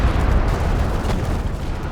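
Stuka dive bomber barrage explosions in Company of Heroes 2, a dense, rumbling roar of continuous blasts that stays loud and heavy for the whole moment.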